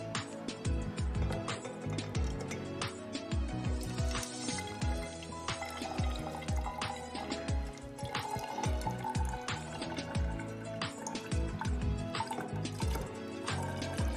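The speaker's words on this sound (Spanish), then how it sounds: "va a echar agua oxigenada de 110 volúmenes" Hydrogen peroxide at 110 volumes is poured during a school science demonstration, giving a continuous watery splashing and dripping with many small irregular splats, steady and close throughout.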